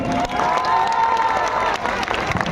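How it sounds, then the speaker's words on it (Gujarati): Steady applause and cheering from a large crowd at a religious gathering, broad clapping mixed with shouts and voices, loud and continuous. "જોરદાર તાળી થઈ જાય"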